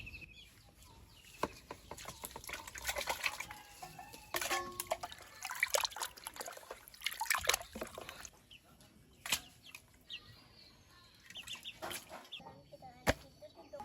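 Cut pieces of desi chicken meat are washed with water in a village kitchen, with irregular splashes, sloshing and knocks of handling close by, while chickens cluck in the background.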